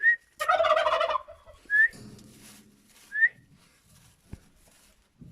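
Turkeys gobble at close range, a loud rapid burst followed by a few shorter whistle-like calls with quiet gaps between them.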